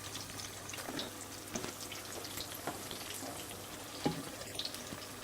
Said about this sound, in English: Let one side fry first, golden brown, then we're going to turn them over.